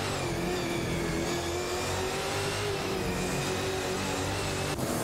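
Race car engines from a Ford Falcon FG and a Nissan Altima in an AI racing video game, droning and revving steadily and loudly throughout, with no talk.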